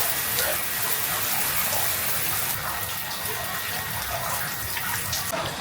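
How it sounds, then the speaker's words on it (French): Steady splashing water from an outdoor shower runs over a person rinsing off after a volcano hike in Indonesia, a continuous close hiss with no talking. "même me doucher à l'extérieur avec la douche de l'extérieur."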